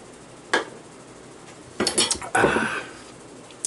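A knife cutting into freshly baked pumpkin bread about 30 minutes out of the oven gives a single clink near the start, then a burst of scraping and clattering contact against a pan or plate, all close and fairly loud.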